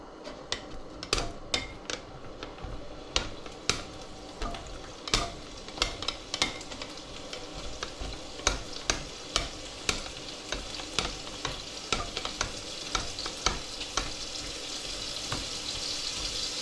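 Egg-coated dumplings sizzle in a pan while a utensil scrapes and clacks in irregular strokes, steady frying hiss underneath throughout.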